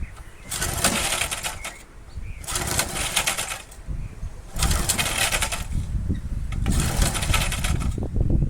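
A flea-market push lawn mower engine is repeatedly cranked, four separate bursts of rough, sputtering effort with short pauses between, under nearby voices.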